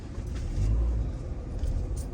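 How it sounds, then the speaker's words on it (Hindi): A car backs up slowly at a bone-setting medical centre in Kamakhyanagar, Dhenkanal, its engine a steady low rumble throughout, close by, with no talking. "गाड़ी बैक करुँची"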